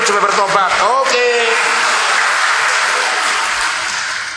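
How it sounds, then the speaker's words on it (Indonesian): A congregation claps together during a church sermon on mission, after a brief spoken voice at the start; the applause swells into a dense, steady wash of many hands close by, then slowly fades toward the end. "Mari tepuk tangan dulu buat orang pelit supaya bertobat."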